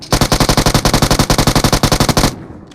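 Automatic gunfire in the mobile game PUBG Mobile: a loud, close burst of about twenty rapid, evenly spaced shots lasting just over two seconds, then stopping abruptly into a quiet tail.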